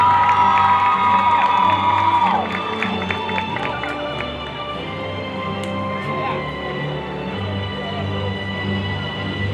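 At a high school football game show, the crowd cheers for the senior cheerleaders: a loud sustained roar of shouts and whoops from a large audience, with scattered voices and some applause continuing throughout.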